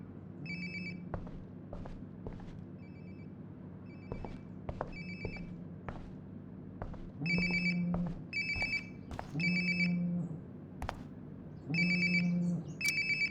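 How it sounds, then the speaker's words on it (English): A phone rings nearby in the video game Life is Strange: Before the Storm, repeated bursts of electronic ringing with short pauses between them over a quiet room-tone background. "Sounds like my phone is definitely nearby."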